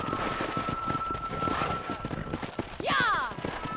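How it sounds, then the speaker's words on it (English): Horse hooves clip-clopping in Red Dead Redemption, a rhythmic close trot under game dialogue, with a sharp whinny-like cry near the end. "Control that horse, will ya?"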